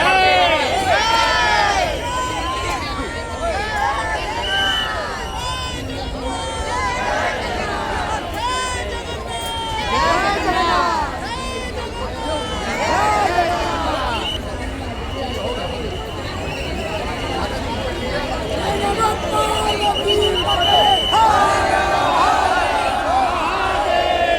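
A dense crowd murmurs and shuffles along a road at the three-day Lakkha fair in Kashi. Loud voices and calls carry over the steady crowd noise throughout.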